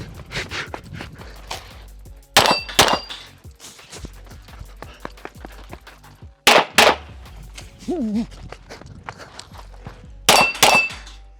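Laugo Alien pistol shots fired on targets in a shooting drill, a series of sharp, loud cracks in spaced pairs and clusters with ringing metallic clangs from struck steel between them.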